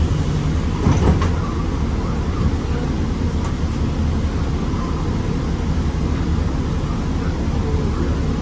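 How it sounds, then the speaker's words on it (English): A Honolulu city bus pulling away from a stop near Waikiki, its steady engine rumble and road noise loud and continuous with a faint door or rattle clunk near the start; no voices. "The bus is departing."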